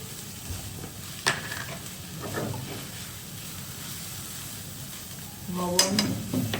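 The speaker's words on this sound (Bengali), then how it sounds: "মুরগিটাকে জাস্ট হালকা একটু জাস্ট ফ্রাই করবো" Chicken lightly frying in a pan as it is stirred, a soft steady sizzle with a few scraping stirs near the start and a louder clatter of movement toward the end.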